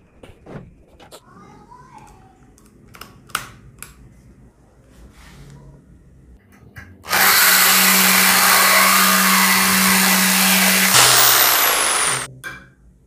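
An electric drill fitted with a saw attachment cuts through a piece of metal. Quiet handling clicks and knocks come first, then the motor roars into a loud, steady whine with a low hum for about five seconds before it stops.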